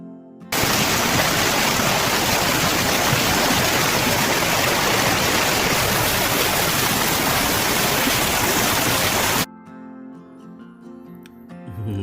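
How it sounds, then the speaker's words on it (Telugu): Roadside waterfall on a Kerala ghat road, a loud, steady broadband roar of falling water filling nearly the whole stretch before cutting off abruptly, followed by a short bit of music. "అలాగా చాలా బాగుంటుంది ఇక్కడ రోడ్డు పక్కనే జలపాతం."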